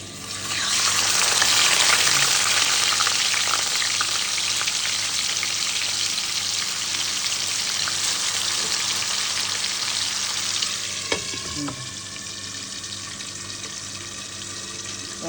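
Steak frying in hot oil in a pan, a loud continuous crackling sizzle that eases slightly toward the end, with a brief clink near the close and no voices.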